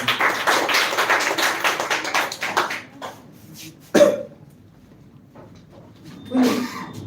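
An audience applauds a speaker stepping up to the podium at an English speech semi-final, a dense burst of clapping that fades out within three seconds, followed by a single cough and faint shuffling in a quiet hall.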